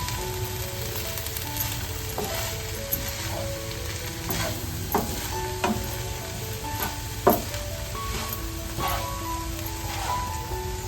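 Leafy wild greens (ranbhajya) and tempered aromatics fry in a pan while a spoon stirs them, giving a steady close sizzle with repeated scraping and clinking strokes at an uneven rhythm and one sharper knock near the end.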